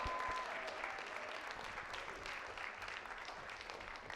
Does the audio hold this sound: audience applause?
yes